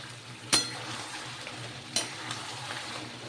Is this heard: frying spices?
yes